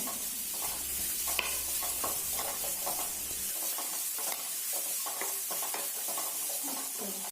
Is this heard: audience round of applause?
no